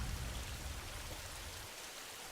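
Steady rain falling outside a poor family's house during the rainy season, a dense even hiss with low rumble that drops away near the end, no voices.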